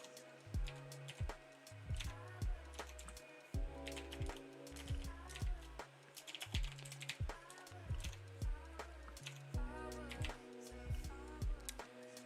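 Keys on a computer keyboard clatter in quick irregular bursts of sharp clicks, close and moderately loud, over a steady background music bed.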